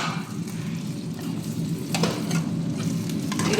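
Macaroni sizzles and fries in oil in a home kitchen pan, a steady, loud crackling hiss that swells slightly toward the end, with no talking.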